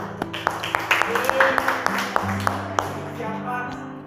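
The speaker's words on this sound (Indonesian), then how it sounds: "tepuk tangan" Applause from an audience at a school muhadharah speech event, a steady patter of many hands clapping with sharper individual claps, fairly close and moderately loud, running throughout.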